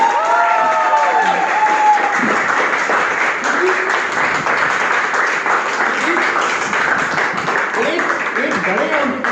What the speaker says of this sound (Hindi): जबरदस्त तालियों के साथ शुरुआत करते हैं